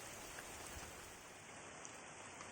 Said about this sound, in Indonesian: Akhirnya hujan turun.